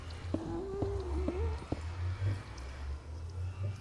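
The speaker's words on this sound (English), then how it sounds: "So somewhere, that thing that's making that noise is a ghast." A ghast in Minecraft gives a thin, distant, cat-like wail that rises and wavers for about a second. It sits over a low rumbling game ambience, followed by a few soft clicks.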